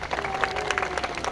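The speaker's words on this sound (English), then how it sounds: "Ripley, they applauded for you." A small zoo audience claps for a Harris hawk named Ripley after its flight demonstration, a steady patter of many hands at moderate distance, continuous and fairly soft.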